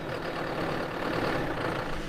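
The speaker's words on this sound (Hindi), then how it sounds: "डीजल ट्रैक्टर की आवाज़ ऐसी होती है" A diesel tractor engine runs with a steady, rough, low droning rumble, close and constant for the whole short stretch, with no talk over it.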